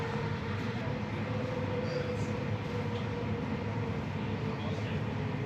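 Steady, continuous rumble inside a moving train from Edinburgh airport to the city, with low droning wheel noise and a faint hum, no distinct voices rising above it.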